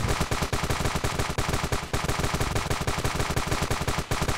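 Rapid rifle fire in the Ravenfield video game rattles out as a dense, continuous string of sharp shots, loud and close, with no voices over it.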